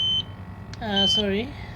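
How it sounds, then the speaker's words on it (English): A GX-8000 portable gas detector alarm gives a short high electronic beep, then the tone returns briefly while someone speaks over it nearby. "so testing the alarm again, just press, as you can see, again different alarm"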